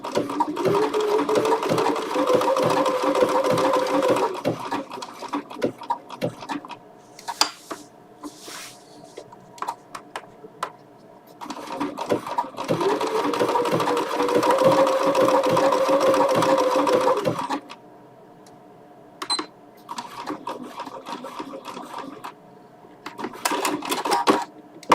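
A Bernina sewing machine stitches fabric in rapid mechanical bursts of several seconds each, close and loud, separated by short pauses with faint handling noises.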